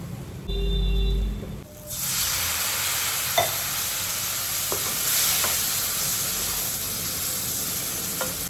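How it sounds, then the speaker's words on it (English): Chicken frying in masala in a pan, giving a steady sizzle and hiss with occasional stirring scrapes and clicks, and no voices. "अभी हम फिलहाल इसको फ्राई करते हैं चिकन को इस मसाले में"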